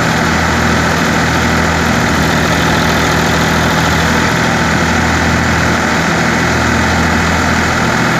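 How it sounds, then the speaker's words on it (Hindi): A Massey Ferguson 9500 tractor drives a wheat thresher, its engine holding a steady, loud, continuous drone with a low rumble throughout, with no voices over it. "इसको थ्रेशर पे चला के गेहूँ की खुदाई कर रहे हैं। आप देख सकते हो कि ये ट्रैक्टर जो है बिल्कुल भी किसी भी तरीके से लोड की परवाह नहीं करता है"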